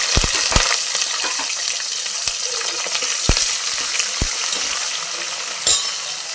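Onions frying in a pan with cumin and mustard seeds, a loud, continuous crackling sizzle punctuated by several sharp spatula taps and scrapes against the pan, close up with no voices.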